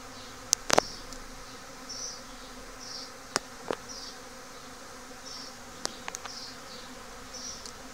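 A honeybee swarm being caught buzzes steadily at moderate distance, a soft continuous hum with a few sharp clicks and knocks over it and no talk.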